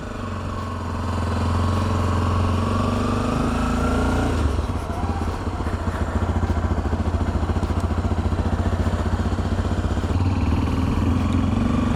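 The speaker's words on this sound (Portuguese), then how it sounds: "Eu que vou dar uma voltinha agora na moto." A Honda XRE 300 motorcycle starts off and is ridden, its single-cylinder engine rising from a steady idle-like hum into a louder, pulsing run with gear changes, close to the rider throughout.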